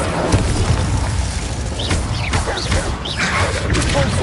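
The Incendio fire spell cast in the Hogwarts Legacy video game lets out a booming burst and whooshing flare amid ongoing combat impacts, loud and close.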